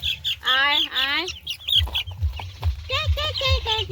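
Young chicken chicks chirp and cluck up close while being lifted from a cage into a tray, with high peeping calls mixed with low rustling and handling thumps, and someone speaking over them.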